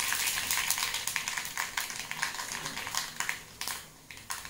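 Mustard seeds and dried red chilies sputter and crackle in hot oil for a tempering, a dense, close sizzle with rapid popping bursts throughout and a brief dip near the end.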